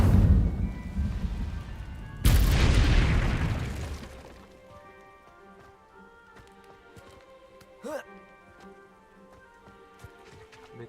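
Incendio fire spell cast in Hogwarts Legacy, a sudden loud whoosh burst of flame that roars briefly and fades into a quieter game ambience with faint ringing tones.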